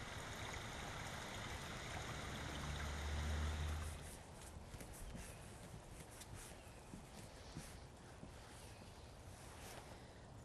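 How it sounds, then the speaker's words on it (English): A spring creek in Heritage Park flows steadily, a soft, even wash of water that stays faint and continuous, slightly fuller for the first few seconds before settling into a quieter trickle. "Looking out onto this creek here"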